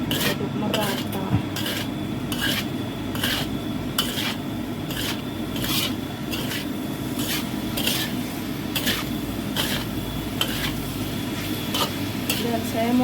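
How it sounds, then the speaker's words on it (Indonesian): Vegetable lodeh is stirred in a pot with a spoon in rapid, regular strokes, each a rough scraping rub against the metal over a low simmering hiss, close and prominent with brief speech between. "Kita aduk-aduk. Aduk merata."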